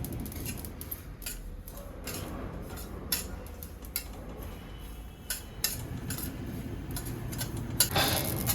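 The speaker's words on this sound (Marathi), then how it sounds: "सगळ्यात आधी आपल्याला खसखस घ्यायची आहे भाजून आणि ती अशी गोल्डन ब्राऊन होईपर्यंत आपल्याला छान भाजून घ्यायची आहे" Poppy seeds dry-roast in a pan, with a soft background hiss broken by repeated light metallic clinks and scrapes of a spatula against the pan, fairly quiet and close.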